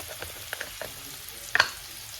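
Chow mein noodles tossed in a hot pan, with soft sizzling and a few scraping stir strokes, one sharper clatter near the end; close and fairly quiet, no voices.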